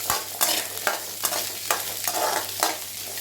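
Indian gooseberries (amla) sauté in a pan for a chutney, giving a close, continuous sizzle broken by regular scraping strokes of a spoon about every half second.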